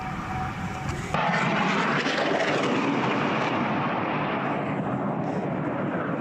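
Drone (UAV) flying overhead amid air defence fire, heard as a loud, sustained engine roar that jumps in abruptly after a quieter start and then slowly fades, with no speech.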